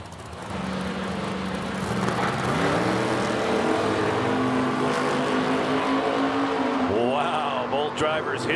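Drag racing cars roaring down the strip at an Edmonton event, a loud sustained engine howl that climbs in pitch and then drops away, with an announcer talking over it.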